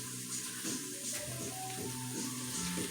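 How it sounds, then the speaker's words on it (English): Broth being poured into a cooking pot during meal prep, a steady close splashing stream of liquid with a continuous watery rush and no talk. "So, put the broth in."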